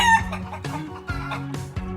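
A farm chicken gives a loud, close series of rapid, uneven clucks and short squawking calls, heard alone without any talk.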